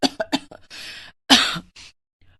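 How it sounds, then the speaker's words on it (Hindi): A woman coughs in several short bursts, then a stronger, longer cough follows and fades out. "वो खांस रही थी।"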